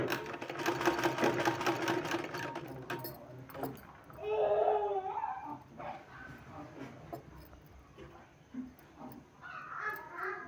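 A sewing machine runs in a quick, rattling burst while stitching a beaded sleeve, then stops for quieter handling noises, with a person talking and some intermittent clatter afterward.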